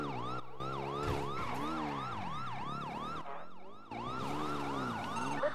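A police car siren in a roleplay video game wails in fast, steady up-and-down sweeps, loud and close, running almost without a break for the whole stretch.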